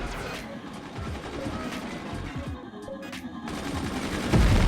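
Flak guns and gunners in the Forts high seas game fire rapid bursts at a beacon, a dense rattling volley of gunfire that runs the whole time and swells to a louder blast at the end.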